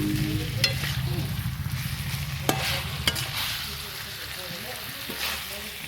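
Masala frying in a pan for sesame chicken, a steady close sizzle with occasional sharp clicks and scrapes of stirring, under a faint background voice.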